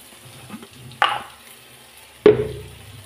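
Chicken frying in a pan with garam masala, ghee added; two sharp sizzling bursts about a second apart, each flaring loud then settling into a low crackle, close and without talk.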